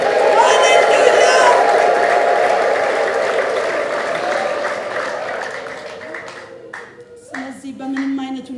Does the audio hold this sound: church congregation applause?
yes